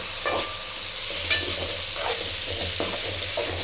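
Tomato and coconut sautéing in a pan, a steady sizzle with occasional utensil scrapes and clinks of stirring close by, no voices.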